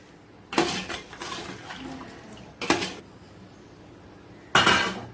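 A metal spoon scrapes and clanks three times against a pot of chicken dum biryani as it is stirred. The bursts are loud and close, with quieter pauses in between.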